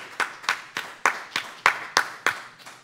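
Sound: audience applause for speaker Brian

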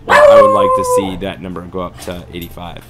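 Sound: dog barking and howling

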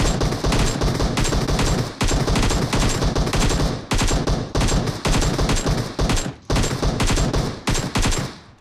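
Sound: gunfire at a Kombi van in the video game PUBG

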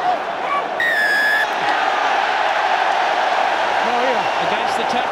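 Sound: stadium crowd cheering at a rugby match

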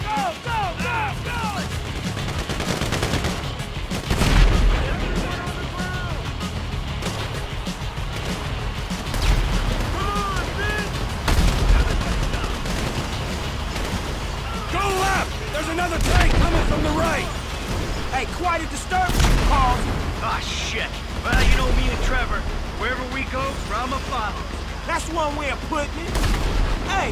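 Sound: gunfire during a bank robbery in Grand Theft Auto V video game

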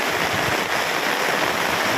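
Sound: heavy rain at a campsite

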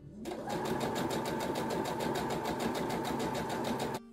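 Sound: sewing machine stitching a ruffle hem

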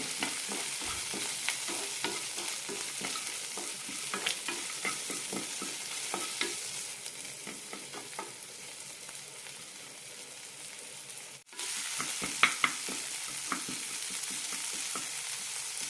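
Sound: turmeric, cumin, coriander and peanuts stirred in a frying pan

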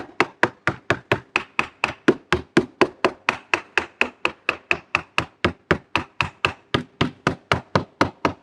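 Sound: hammer tapping plastic car bumper

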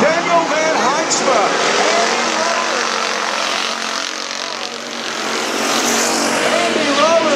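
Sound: race car engine powering down dirt track straightaway

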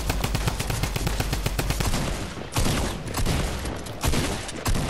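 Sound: gunfire in the video game Fortnite, drum gun

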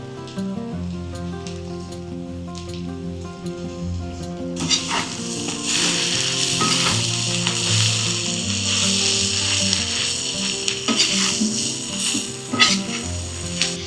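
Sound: julienned carrots added to a sizzling cauldron

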